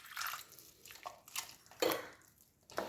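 Water is poured in small splashes and drips into cauliflower 65 batter in a home kitchen, faint and intermittent, with several short wet bursts over a few seconds.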